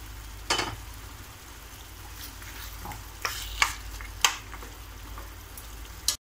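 Mutton sukka is stirred in a frying pan, giving a constant soft sizzle punctuated by several sharp scrapes and clanks of the spoon against the pan.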